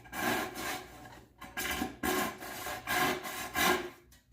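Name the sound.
pull saw cutting wood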